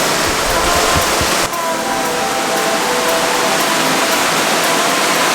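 Loud, steady rushing water roars without pause, a dense wash of falling water close by, at El Aguacero waterfall in Chiapas, Mexico.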